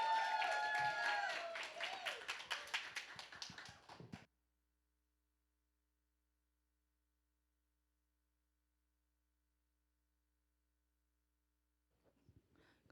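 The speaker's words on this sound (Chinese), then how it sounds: "我们热烈掌声来欢迎我们的燕梅。" A church congregation applauds to welcome a leadership-class member coming up to give testimony at a Sunday service, with dense clapping for about four seconds that tapers off into silence.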